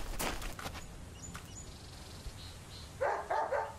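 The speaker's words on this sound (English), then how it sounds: "Bark, bark, bark." In the video game Deadly Premonition, dogs bark in a few sharp bursts near the start, then go quiet. Faint bird-like chirps follow, and a cluster of louder yips and barks closes it out. No one speaks.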